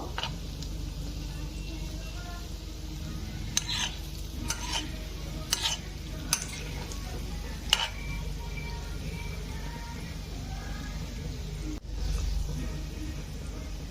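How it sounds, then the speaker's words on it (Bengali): Hot oil sizzles steadily as yogurt pakoras deep-fry, with occasional sharp clinks from a utensil stirring in the pan. "আমি এখন বাকিগুলোকে গোল্ডেন ব্রাউন করে ভেজে নেব"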